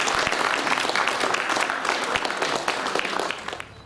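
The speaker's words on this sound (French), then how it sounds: "Applaudissez." Audience applauding at a reception honouring a guest, a full, close burst of many hands clapping that fades out near the end.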